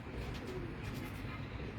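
Pigeons cooing steadily and fairly close amid a constant hum of background noise, with no voices, among a breeder's prized pure pigeons in Karachi.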